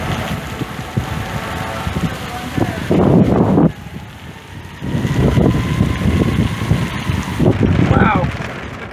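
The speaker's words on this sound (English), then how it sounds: "Okay, the wind is still very strong." Strong storm wind in Hutchinson, Kansas roars and buffets the microphone in loud sustained gusts, with brief surges and a few indistinct voices underneath.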